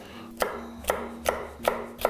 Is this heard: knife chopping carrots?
yes